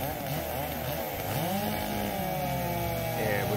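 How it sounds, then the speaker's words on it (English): Echo 590 and Stihl 660 chainsaws cut wood together, their engines roaring loud and steady, pitch bogging down and rising again as the chains bite into the log, with no speech. "both saws digging in and cutting good"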